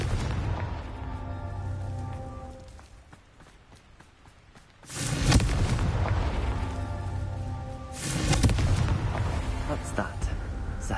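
A Confringo explosion spell bursts in a video game, giving two loud booming blasts a few seconds apart over a bed of background music and rumble.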